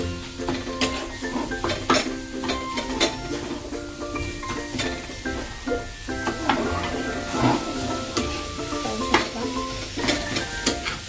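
A jaggery and coconut mixture is stirred as it cooks in a pan for modak filling, with steady sizzling and repeated scraping and clinking of a spoon against the pan, close and fairly quiet.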